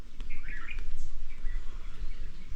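Birds chirp around the Tapkeshvar Mahadev temple in a quiet forest, small bursts of twittering calls rising over a soft breezy outdoor background.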